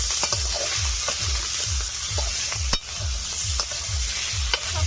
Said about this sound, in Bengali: সবকিছু দিয়ে ভালো করে কষে নিয়েছি।